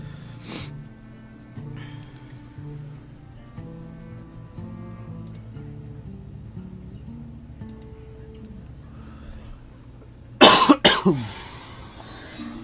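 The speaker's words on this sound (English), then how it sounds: "I apologize if you hear me coughing" A man coughs from allergies during a casual Hearthstone session. Two or three sharp, loud coughs burst out near the end, over quiet, steady game music.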